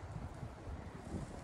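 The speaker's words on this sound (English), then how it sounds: "And a little bit windy." Wind gusting across the top of a rocky ledge on a forest trail in Shenandoah River State Park, Virginia, a steady low rumble of mic buffeting that rises and falls in soft pulses, with no voices.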